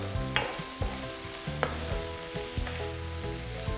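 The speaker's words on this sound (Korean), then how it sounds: "달콤한 맛을 내주는 양파를 볶고 있습니다." Sliced onions sizzling in a hot pan while being stir-fried, with a steady frying hiss broken by sharp utensil scrapes and taps roughly every half second, close up and with no speech.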